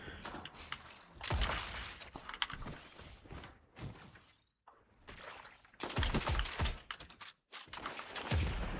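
Gunfire in a Destiny 2 PvP Zone Control match, loud bursts of shots in clusters broken by brief near-silent gaps, with mechanical clatter mixed in and no speech.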